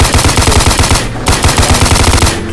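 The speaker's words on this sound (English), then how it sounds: "She's buying a minigun. Oh no. Those things shoot quick." Minigun firing in a video game, a loud, rapid, continuous stream of shots with a brief pause near the middle before the burst resumes.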